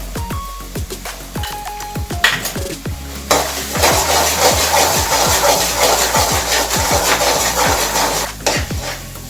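Bread halwa being stirred with ghee in a pan, a spoon scraping and knocking against the metal in irregular strokes over a steady sizzle that grows louder and fuller partway through, close and with no talking.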